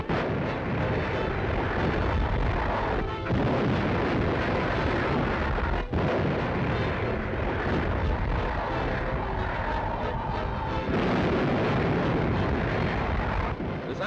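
Dynamite charges laid by sappers in archival war film of the 1941 Måløy raid demolish storehouses, heard as a dense, loud, continuous rumbling roar of explosions with no talk.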